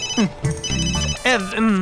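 A mobile phone ringtone plays a bright, melodic electronic tune in an Indian comedy series scene, loud and close, with other sound mixed in.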